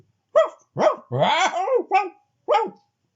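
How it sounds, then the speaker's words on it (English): A dog barks loudly and close by: five sharp yaps at uneven intervals, with the middle one drawn out into a longer, whining bark. "Then she heard a yapping from next door."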